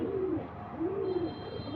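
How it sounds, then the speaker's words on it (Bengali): A female chocolate mosaldom pigeon gives two or three soft, close, rolling coos, alone and with no talk. "একদম ফুল ফ্রেশ কবুতর"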